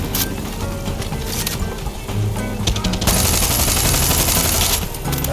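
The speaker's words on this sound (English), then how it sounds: "I'm just going to have to shoot it down with my assault rifle." Rapid assault rifle fire in the video game Far Cry 6, a continuous loud rattle of automatic shots that grows denser and heavier partway through.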